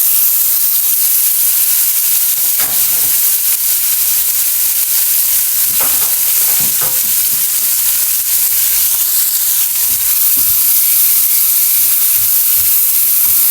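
Tomatoes sautéed and stirred in a hot pan with aromatics, giving a steady sizzling hiss throughout with a few louder scraping stir strokes near the middle and toward the end.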